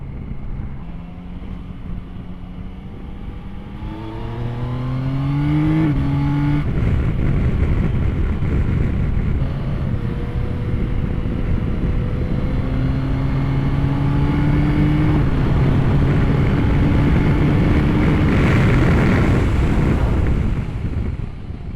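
A 2025 Yamaha Tracer 9 GT rides with its engine pitch climbing through gear changes as it accelerates, then easing off under braking, all beneath heavy wind rush against the rider's microphone.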